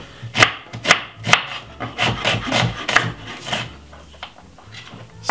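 A knife chops a red onion on a wooden cutting board in a run of sharp, close knocks, about eight evenly spaced strikes, then a few softer taps and scraping.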